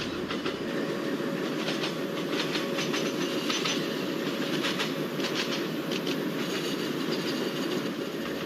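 Twin ERS electric locomotives hauling the Garib Rath Express near Kochuveli, a steady rumbling roll with faint rhythmic clicks of wheels on rail joints and a light hiss, continuous and close, with no talk.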